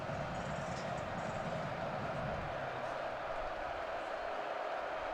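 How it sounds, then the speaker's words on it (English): A football stadium crowd at Michigan versus Rutgers swells into a steady, far-off roar on a third down, a continuous dense rumble with no distinct claps. "the crowd starts to get a little loud here at this 3rd and 1"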